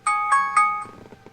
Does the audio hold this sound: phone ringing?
yes